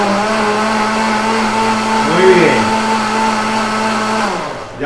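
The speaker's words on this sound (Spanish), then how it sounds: "pero para meterlo a licuar en la licuadora" Electric kitchen blender whirring through chopped cilantro, a steady loud motor drone with a brief pitch sag around the middle as the load shifts, then winding down at the end, close up.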